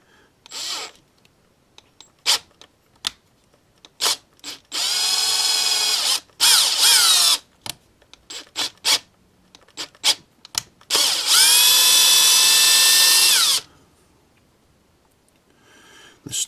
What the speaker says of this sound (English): So we're going to drill that,